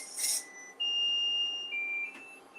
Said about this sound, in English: Oh my gosh, our timer is up.